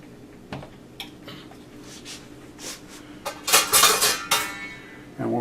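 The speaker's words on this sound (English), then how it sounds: "Then we're going to set the pot on the flame at a medium heat." A metal pot set down on a kitchen stove burner over a flame, with several clanks and scrapes of cookware, the loudest cluster near the end, close by and without talk.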